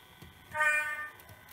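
A model train's horn toots once in a short, moderately loud sustained blast, with faint track and motor noise before and after, during an automated back-and-forth run.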